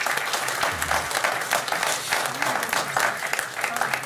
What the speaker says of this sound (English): I'd like to ask you to hold the applause till the end here